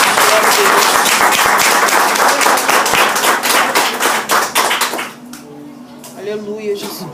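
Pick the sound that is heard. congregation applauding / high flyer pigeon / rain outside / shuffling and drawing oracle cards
congregation applauding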